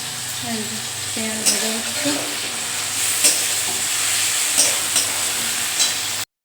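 Cut chicken pieces fry in a pan with a loud, continuous close sizzle, punctuated by occasional sharp spits and crackles, while faint tonal sounds drift underneath.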